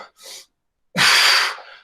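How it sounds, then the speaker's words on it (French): A single sharp, breathy inhalation during a forward-leaning stretch in a live home workout, loud and close, following a couple of softer breaths. "Je prends une respiration."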